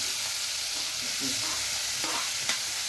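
Three large tomatoes frying in a little oil in a pan: steady, fairly quiet sizzling hiss with occasional stirring scrapes and a small pop near the end.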